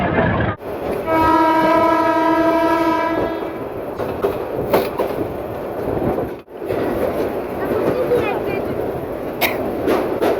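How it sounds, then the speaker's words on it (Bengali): A commuter train on the Dhaka to Narayanganj line pulls out of Gendaria railway station and gathers speed, sounding a long horn blast before its steady, loud rumble and wheel clatter carry on. "এই গেন্ডারিয়া রেল স্টেশন থেকে ট্রেনটি তার গতি বাড়িয়ে দিচ্ছে"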